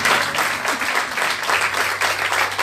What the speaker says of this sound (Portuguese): dá uma linda salva de palmas para Jesus,